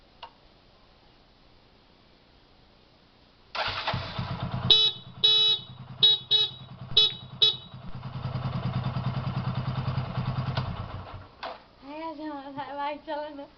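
A newly bought motorcycle is kicked into life and ridden by a beginner, its engine catching after a few short revving bursts, then running in a steady close drone before easing off, with a voice briefly heard near the end.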